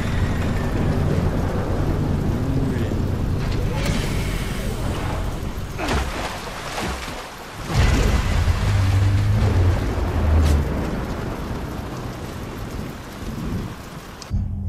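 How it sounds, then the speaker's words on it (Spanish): Thunderstorm in the video game Gears of War 2: heavy rain hisses steadily throughout while loud rolling thunder builds and rumbles in several swells, with no voices. "Tormenta incierta."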